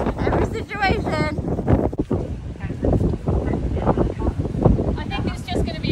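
Gusty wind at an outdoor horse eventing venue buffets the microphone in low, rumbling surges while people talk over it throughout.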